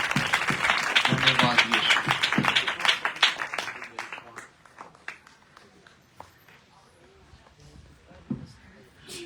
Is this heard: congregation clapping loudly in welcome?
yes